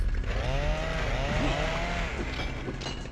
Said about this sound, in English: Chainsaw guys. Nothing much to say about them. Tragically, one of the least interesting enemies in the game.